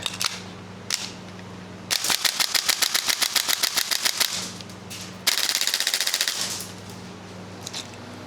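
A Salvo Precision MWS MCX gas airsoft rifle fed from a DE Salvo magazine fires two long rapid full-auto bursts of sharp, evenly spaced clacks, with a few isolated single shots before and after.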